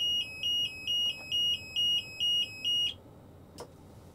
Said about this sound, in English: hold the grabber closed and grabber open buttons at the same time until the alarm stops sounding.